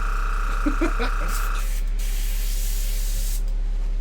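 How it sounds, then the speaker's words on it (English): An airbrush sprays paint onto miniature Necron Skorpekh Destroyer blades, giving a close, steady hiss that runs across the whole clip with a brief burst of speech near the start. "it doesn't usually take 2 hours to spray 2 blades"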